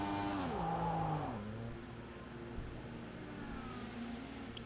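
Race car in Project Cars 2 pulling away from the pits at Watkins Glen, the engine revving high with rising gear-change sweeps, then dropping to a quieter steady drone as it exits.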